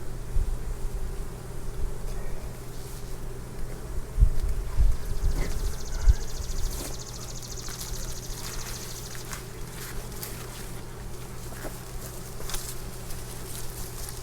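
Bees hum and buzz steadily around an opened year-old hive during an inspection, a low continuous drone with occasional knocks and handling noises from the frames, no talk.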